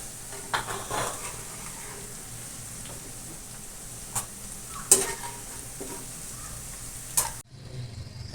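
Sweet potatoes and vegetables frying in hot oil in a pan for vegetable lumpia, a steady low sizzle with occasional stirring clinks and scrapes of a utensil against the pan, then a sudden drop as the sizzle cuts off near the end.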